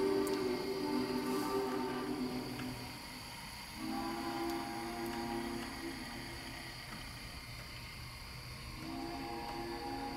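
Model train pulling a modified Walthers track-cleaning boxcar through a tunnel, with a faint steady rolling hum and tonal whine that dips as it passes inside and rises again as it emerges.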